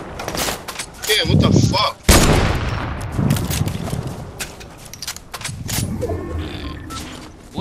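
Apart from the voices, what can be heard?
gunfire from the tickle gun in the video game Fortnite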